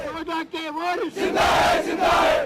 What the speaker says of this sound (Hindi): आजादी के मतवाले नारे तकबीर लगाते हुए संगबाजी करते रहे।